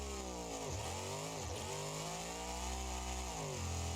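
A twin-turbo, supercharged monster truck engine in BeamNG.drive drones loudly and continuously, its pitch dipping sharply twice as revs drop and recover, then holding a steady high-revving whine alone.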